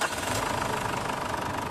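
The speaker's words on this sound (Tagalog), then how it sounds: "Tapos, start ko ulit itong makina." Ford Everest diesel engine after an oil change and fuel filter replacement, running at a steady idle with a dense, rhythmic knocking rumble, loud and close, with no talking.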